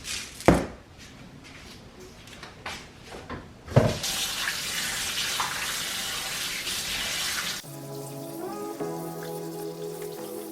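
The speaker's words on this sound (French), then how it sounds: "Je vais tremper ça dans de l'eau très glacée." Tap water runs steadily into a sink or bowl while peeled apples are soaked in iced water, preceded by a few brief clatters of kitchen handling, then cut off as music takes over.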